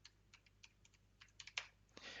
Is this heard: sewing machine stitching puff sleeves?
no